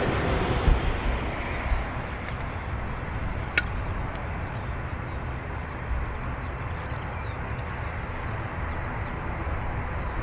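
A Finnair airliner, flight AY1382 to Helsinki, departing Dublin Airport's north runway, heard as a distant, steady low engine rumble with a few faint clicks over it.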